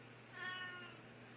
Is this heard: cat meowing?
yes